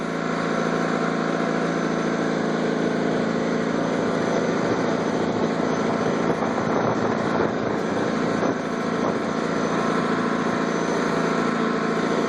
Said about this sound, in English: I don't know if you can hear me over the tractor or not